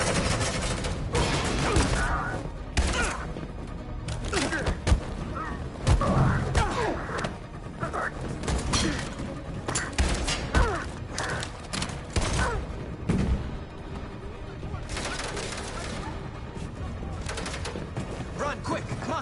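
Dense, chaotic gunfire and thudding impacts fill a Detroit: Become Human firefight, with bursts continuing throughout under game voices and shouting.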